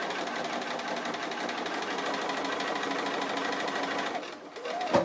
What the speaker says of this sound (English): when I'm doing the free motion like this, when I'm starting and stopping, I do a couple of stitches on top of each other